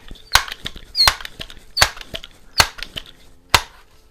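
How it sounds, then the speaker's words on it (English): A Crosman 66 Powermaster multi-pump .177 pellet rifle being pumped, a series of about five sharp, close clacks of the pump lever spaced roughly three-quarters of a second apart, with faint mechanical rattles between them and no speech. "Gotta remember to pump it."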